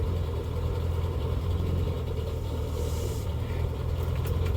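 The engine of a ratrod Morris Minor runs at a steady, low rumbling idle, moderately close and continuous, with faint ticking and a brief hiss partway through.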